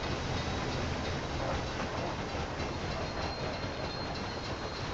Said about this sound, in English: That's the mail train.